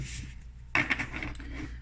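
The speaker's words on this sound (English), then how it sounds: "I'm going to shuffle the cards and find out what comes on the bottom." Tarot cards are shuffled in one brief, close flurry of papery riffling and light clattering, rising suddenly and fading within about a second over a low background hum.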